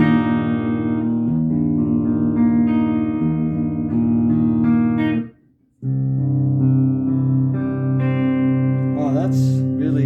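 Clean electric guitar, an LTD Phoenix-1000 with no distortion, rings out in sustained chords and single notes, loud and close, with a brief silent gap midway before the playing resumes.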